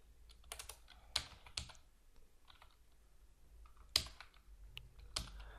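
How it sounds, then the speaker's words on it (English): Sparse typing of code on a computer keyboard, quiet and close, with scattered individual keystrokes and a few louder clacks separated by short pauses. "So we type"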